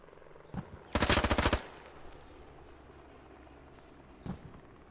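A short rapid burst of automatic gunfire, about a dozen quick shots, rings out during a tactical shooter match, with a couple of isolated single shots before and after against a quiet game backdrop.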